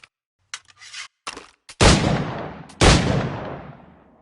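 Firearm shots in Assassin's Creed: a couple of faint clicks and shuffles, then two loud, close, booming shots about a second apart, each with a long rumbling tail, no talking.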